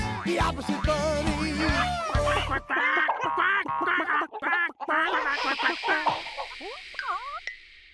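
Loud, repeated duck quacks in a children's TV show, a rapid burst of honking calls that grow sparse and trail off near the end.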